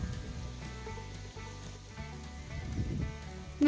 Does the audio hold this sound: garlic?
yes